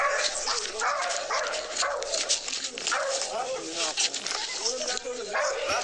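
A stray dog barks and whimpers nearby, with yips and whines repeating over a noisy background while people talk.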